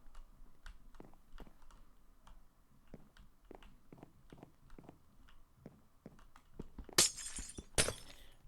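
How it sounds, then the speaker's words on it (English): Glass breaks twice in the Minecraft video game, two bright crashing shatters near the end after a long stretch of quick keyboard clicks and taps. "Next time I'll give a warning whenever I'm about to break glass."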